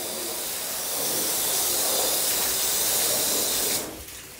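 Pressure-washer water rinsing a car during detailing, a loud steady hissing spray that swells after a second, holds evenly, then cuts off abruptly near the end.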